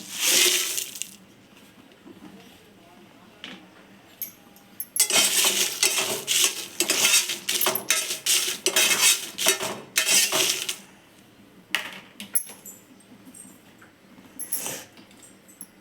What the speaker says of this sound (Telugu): అది కొద్దిగా వేడి కాగానే ఎండు మిరపకాయలు వేసుకోవాలి